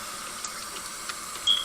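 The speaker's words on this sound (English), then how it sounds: "So this is what the new faucet looks like." Water runs steadily from a newly installed kitchen sink faucet, a continuous close hiss of flow with small splashy fluctuations and a brief brighter spurt near the end, no talking.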